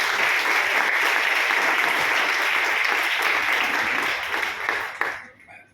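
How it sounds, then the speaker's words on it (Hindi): A seminar audience in Delhi claps together in dense, steady applause for about five seconds before it tapers off and stops abruptly. "एक बार तालियां ठोक दो यार।"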